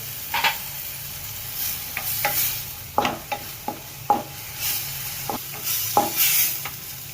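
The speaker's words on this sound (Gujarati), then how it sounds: "જીરું નાખી દઈએ આપણે" Cumin seeds and green peas sizzle in hot oil in a pan for bread pakoda filling, with a constant crackling hiss broken by repeated, close spatula scrapes and knocks as they are stirred.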